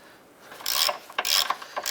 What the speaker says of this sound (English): Get that bolt started a few threads.